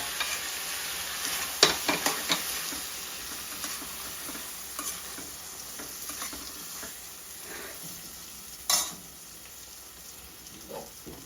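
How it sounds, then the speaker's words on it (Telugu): A spoon stirs boiled dal into raw mango sambar in a pan, with soft scraping strokes and wet stirring over a low simmer, plus a few sharper clinks against the pan. "ముందుగా మనము ఉడకబెట్టుకున్నటువంటి పప్పును ఇప్పుడు ఇందులో వేసేసి కలుపుకోవాలన్నమాట."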